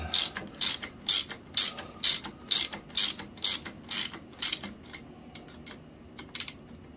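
A ratchet tool tightens the bolt on a Paul Motolite brake fitted to a touring bike, giving about a dozen crisp, evenly spaced clicks close by, then a few scattered softer clicks.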